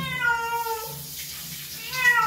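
A pet cat named Miming meows twice before a bath, a drawn-out plaintive cry followed by a second rising call after a short pause, close and clear with no talking.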